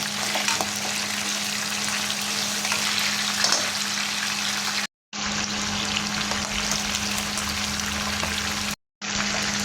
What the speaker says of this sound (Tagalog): So, ipiprito na natin yung fish. So, baliktarin na natin yung ating isda.